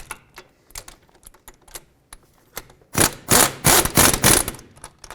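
Wrench ratcheting on the wheel hub bolts of a 2003-2007 Nissan Murano, first a few sparse clicks, then a close, loud burst of rapid metallic ratchet strokes.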